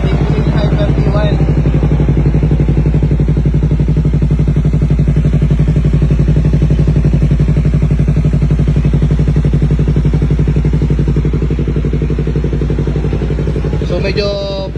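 A motorcycle fitted with a new Clean Hyper T1 muffler idles loudly and steadily as it warms up, a constant close engine drone throughout with a brief clatter near the end.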